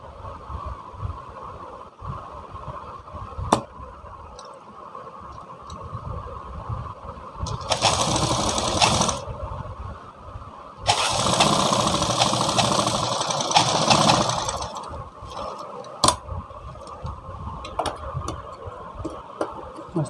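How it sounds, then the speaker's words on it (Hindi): A sewing machine stitches two blouse lining pieces together for a Sabyasachi-style blouse. It runs in two loud bursts of stitching, one short and one longer, over a quieter background with occasional sharp ticks. "अस्तर को भी इसी तरह से दोनों अस्तर को अटैच कर लेंगे, सिलाई मार लेंगे।"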